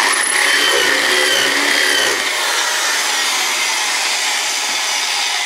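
A power drill fitted with a hole cutter bit grinds through a heat shield on a Triumph Scrambler. The steady, harsh whine is close and loud, then eases slightly partway through as the cutter breaks through. No one speaks.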